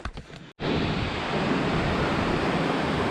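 Bridal Falls waterfall on an uphill hiking trail, a loud steady broadband roar of falling water that fills the scene without a break after a brief rustle and a momentary cut near the start.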